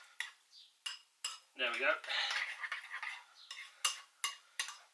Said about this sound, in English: So I'm mixing all that up